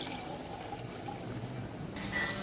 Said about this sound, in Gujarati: ચાલો અહીંયા પાણી એડ કરી દીધું છે